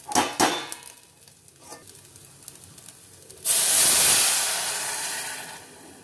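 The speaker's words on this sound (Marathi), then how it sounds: "आता हे नारळाचं दूध मी ह्याच्यात टाकणार." Coconut milk is poured into a pot of rice being cooked for sweet jaggery coconut rice, giving a sudden loud hiss and sizzle after a few quieter taps and clatters.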